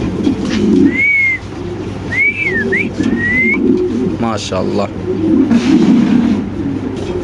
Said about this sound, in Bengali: এখানে আছে বিশাল বড় সাইজের এক জোড়া সাদা শৌখিন কবুতর